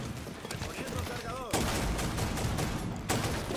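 Shotgun blasts in Rainbow Six Siege, two sharp loud reports about a second and a half apart amid gunfire noise from the match, with a voice speaking briefly over it.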